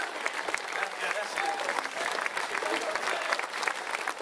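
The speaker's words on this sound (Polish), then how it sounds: "Myślę, że stać Państwa na większe oklaski, jeszcze głośniej." Audience applauding for the Aztlán folk dance troupe from Mexico at an international folklore festival, a steady crowd clapping sustained throughout with faint voices mixed in.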